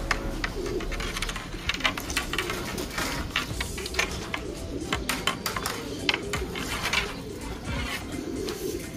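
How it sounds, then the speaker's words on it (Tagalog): A racing pigeon that has just flown back to its loft in San Nicolas, Pangasinan, coos in soft repeated throaty bursts. It sits close by, with faint ticking and rustling in the background and no talk. "Yun, bumalik po agad yung ibon natin."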